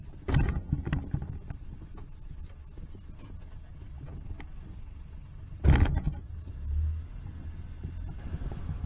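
A kei truck rolls across rough farmland, recorded from its cargo bed: a low rumbling drive with rattles and creaks, and two sharp loud jolts as the bed bumps over uneven ground.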